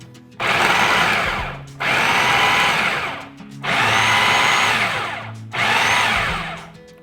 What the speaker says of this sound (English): we're going to finish them in the food processor because we want them to be a little bit more finely chopped